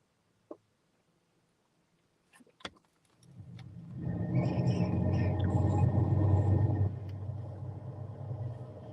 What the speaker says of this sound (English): I gotta turn the car on